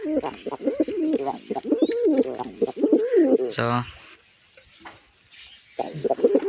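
Pigeons coo in low, rolling murmurs, fairly close, with a brief sharp clatter midway and soft chirps in the background.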